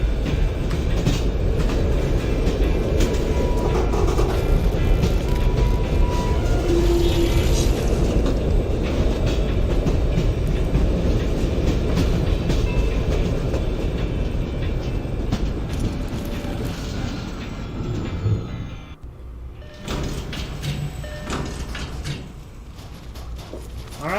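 A train rumbles past in the Fallout 3 video game, a loud, steady roar of rolling wheels and rattling cars that holds for most of the stretch, then thins out and cuts off sharply near the end.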